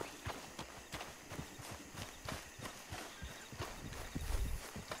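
Horse hooves clip-clopping at a steady walking pace in the video game Red Dead Online, regular close thuds with a brief louder stomp near the end.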